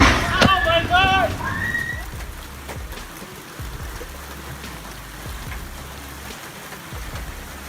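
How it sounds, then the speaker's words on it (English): Hail pounds a roof in a dense, steady roar of many small impacts, with an excited voice and other sharp sounds standing out over the din at the start. "Hail poured down like a waterfall of fire from the sky, hitting the roof with a sound like thunder."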